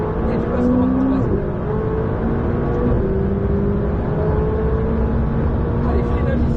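A McLaren 600LT accelerates hard around the Le Luc circuit, heard from onboard as a loud, steady engine roar that climbs in pitch through the gears, with an instructor talking over it.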